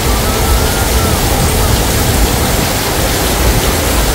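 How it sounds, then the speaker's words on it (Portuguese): Steady rain pours over the central district of Ceilândia near the Feira Central market in Brasília, a dense, even hiss with faint traffic underneath, continuous and fairly loud throughout. "queria filmar aqui o centro de Ceilândia quando a chuva abarcou a gente aqui"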